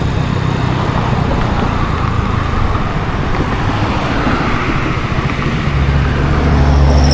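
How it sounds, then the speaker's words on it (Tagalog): A motorcycle engine drones on a night ride to Tagaytay, carrying a steady, loud, close wash of engine and road noise with no clear breaks. "Narinig ko yung motor."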